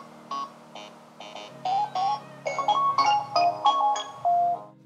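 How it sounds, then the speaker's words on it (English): Pac-Man themed ringtone and notification alert tones play from a OnePlus Nord 2 phone: a run of short, bright electronic beeps and melodic chirps in quick rhythmic bursts, clear and alone. "You also find Pac-Man ringtones and notification alerts."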